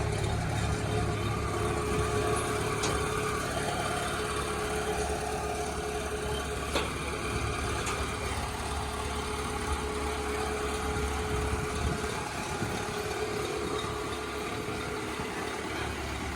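A used combine harvester, a 1993 unit, idles steadily after starting, its engine giving a continuous low rumble that stays even and moderately loud throughout with no talk.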